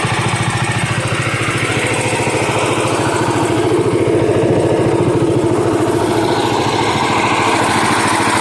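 A Bolens tractor engine idles steadily in neutral at close range, a continuous rapid throbbing putter holding even for several seconds.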